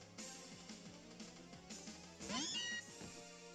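A cat-like Pokémon cry from the video game Pokémon Sun, a series of short meowing calls ending in a louder rising yowl, heard over steady game music without talk.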